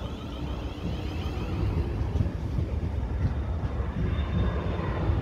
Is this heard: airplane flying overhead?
yes